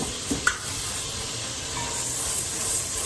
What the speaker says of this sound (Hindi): हमने इसको भूनना है मसाले को अच्छी तरह।